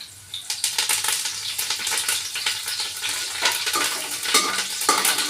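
Curry leaves sizzle and crackle in hot oil while being stirred, a steady loud frying hiss with scraping stir sounds and occasional utensil clinks throughout, no talking.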